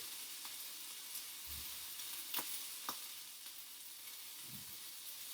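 Steady sizzling hiss of spring onions and chilli frying in a pan, with a few sharp crackles and pops rising above the continuous spit.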